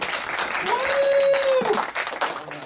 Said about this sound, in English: now let's give a round of applause to Tim Rogers.